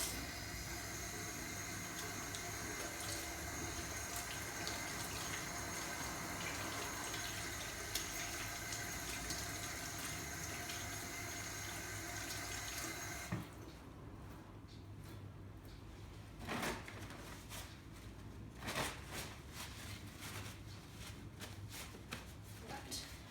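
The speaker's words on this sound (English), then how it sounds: "I'll just be using a chlorhexidine based hand wash." Hands are washed with chlorhexidine hand wash under a running tap in a veterinary lab: a steady rush of water for several seconds, then it stops, leaving quieter rubbing and scattered handling clatter.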